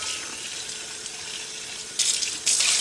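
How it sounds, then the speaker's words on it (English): Cool tap water runs steadily over pickled sunchokes being rinsed after brining, a continuous hissing splash that grows louder and brighter in two bursts near the end. "So now we're going to rinse them off in cool water."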